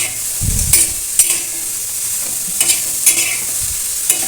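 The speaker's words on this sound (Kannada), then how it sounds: "ಸ್ವಲ್ಪ ಡ್ರೈ ಆಗೋ ತನಕ ಹುರಿತೀನಿ" Bitter gourd slices fry in a pan with a continuous sizzling hiss, broken by a few clanks and scrapes of stirring, close and fairly loud, with no voices.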